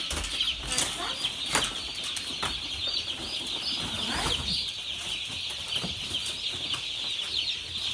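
New chicks in a farm pen of about two hundred birds cluck and chirp steadily while wings flap in brief, rustling flurries. The sound is busy and close, with no talking.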